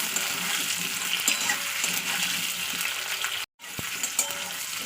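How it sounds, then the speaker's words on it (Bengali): Onion and potato pieces fry in oil for a radish, spinach and rohu fish curry, giving a continuous close sizzle with a brief cut to silence near the end. "তো দু তিন মিনিট তেলের উপরে একটু ভাজা ভাজা করে নিতে হবে"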